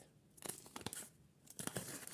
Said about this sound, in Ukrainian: І давайте відкриємо пакетик.